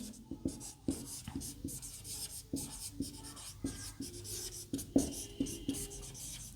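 Chalk or pen writing on a board during an electricity lesson, a series of quiet, distinct taps and short scratching strokes at an irregular rhythm, close by, with no talking.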